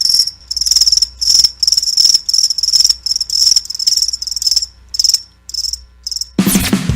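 Crickets chirp loudly in a radio ad effect, dense rapid trills in quick bursts with short gaps, ending abruptly as a sharp sweeping sound cuts in near the end.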